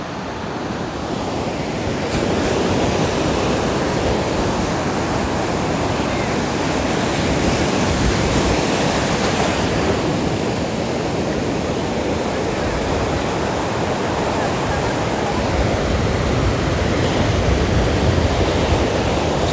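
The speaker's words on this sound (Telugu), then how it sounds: "ఎలా వస్తున్నాయి కదా అలలు ఎలా వస్తున్నాయి సూపర్ వస్తున్నాయి కదా" Sea waves at Bheemili beach near Vizag roar in a continuous dense wash of surf, loud and steady with no voices over it.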